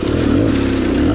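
A 2018 Beta Cross Trainer 300 motorcycle engine runs close by, a loud, steady, low mechanical drone that lugs along under load with no talking.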